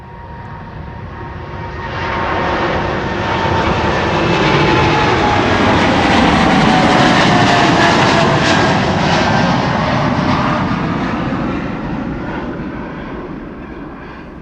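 A KLM Boeing 787-9 Dreamliner departing runway 24 at Amsterdam Schiphol, its jet engines swelling from a distant rumble to a loud roaring pass, then slowly fading, heard alone without talk.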